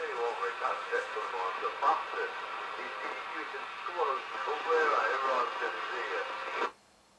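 A World Sound PT40 UK CB radio, a mobile 27/81 set, receives an on-air transmission: a distant voice comes through thin and crackly over hiss for several seconds before the signal cuts off abruptly.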